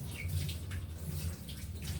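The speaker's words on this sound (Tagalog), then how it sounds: "naglalagyan po ng water ni mama ng galing gripo po" Tap water runs steadily into a container at home, a continuous close splashing rush with no talk.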